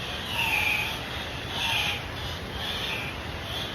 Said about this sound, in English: It's called cock of the rock, very special bird